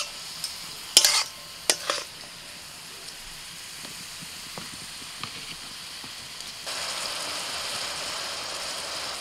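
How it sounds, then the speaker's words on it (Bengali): Mustard greens being stirred in a pan as they fry, with a few sharp scraping strokes early on, then a steady soft sizzle and hiss that grows louder toward the end. "এবার সরষে শাকগুলো দিয়ে দিচ্ছি। ভালো করে শাকটাকে নাড়াচাড়া করে নিতে হবে।"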